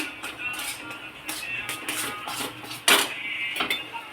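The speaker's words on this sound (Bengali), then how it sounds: "সুজিটা দিয়ে একটু ভালো করে নেড়ে নেবো।" Semolina is stirred into thick palm fruit pulp in a pan, making a close run of repeated scraping and scuffing strokes with a sharper clatter near the end.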